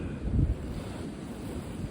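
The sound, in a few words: strong wind gusts blowing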